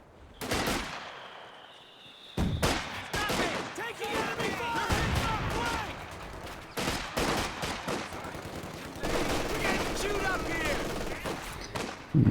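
Machine gun fire in a real-time strategy game match, repeated bursts and scattered shots over about twelve seconds, some loud and close, others thinner, mixed with other battle sounds and a commentator talking over much of it.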